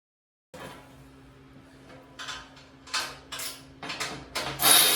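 Top bolts get snugged on a Ranger RL 8500 brake lathe bench during assembly, a run of metallic ratchet clicks and clanks in bursts that grow louder toward the end, alone over a faint hum.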